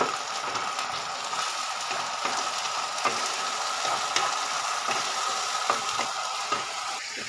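Tomato, ginger and garlic paste sizzles steadily in a hot pan, a constant close frying hiss with faint scraping stirs throughout and no voices.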